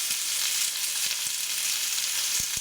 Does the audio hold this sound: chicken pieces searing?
yes